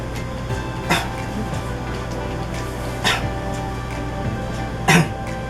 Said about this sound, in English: can you do 3 coughs